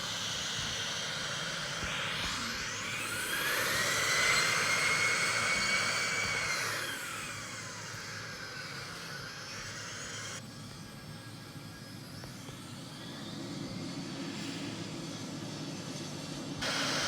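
A steady, loud roar of jet engines and airflow fills a US Airways airliner cabin during landing, swelling midway with a rising engine whine, then settling to a lower continuous drone.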